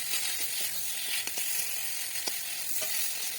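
Spices with cumin powder sautéing in oil for a Bengali bhola fish curry, a steady close sizzle and hiss with a few brief stirring clicks, no voices.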